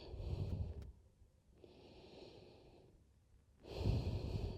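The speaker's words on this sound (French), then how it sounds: "Quelques respirations ici." Slow, deep breathing during a power yoga session while lying on one side on the floor: three quiet cycles of breathy inhale and exhale with pauses between, close and soft.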